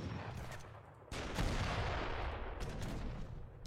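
Mortar and artillery fire in a strategy video game with Navajo and Apache units, a dense rumbling barrage of blasts that swells loudly about a second in and rolls on with scattered impacts.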